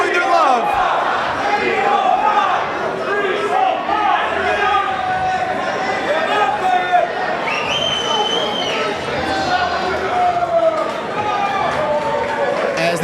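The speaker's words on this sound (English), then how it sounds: "you can hear right here the hometown crowd showing their love." A hometown wrestling crowd at a CCW Bash event in Hialeah, Florida, cheers and chants loudly and steadily, a dense roar of many voices with shouts poking through.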